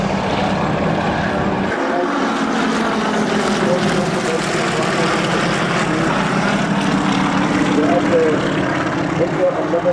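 A North American Harvard propeller aircraft flies at an air show in Durban, a loud continuous engine drone with a rasping propeller tone that holds steady throughout, with crowd and ambient noise underneath.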